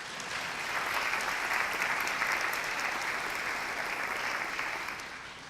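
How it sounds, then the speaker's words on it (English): Audience applause at a 2018 city awards ceremony in Tacoma honouring nominees, a dense, steady wash of many hands clapping that swells in and fades gradually near the end, with no talking over it. "let's give everyone a round of applause on that."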